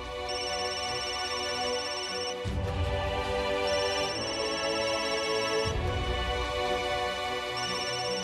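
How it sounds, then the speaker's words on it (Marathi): A telephone ringtone repeats in a steady electronic pattern, loud and close, sounding alone through two or three cycles in an indoor household scene from a Marathi TV serial. "तुम्ही फोन उचला आणि जे काही बघितलंय ते सगळं खरं खरं मम्मीला सांगा"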